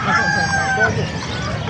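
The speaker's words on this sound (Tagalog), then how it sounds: "kakaibang manok oh" An unusual rooster crows at a busy Bocaue market in one drawn-out call lasting under a second, set against a steady hubbub of crowd noise and distant voices.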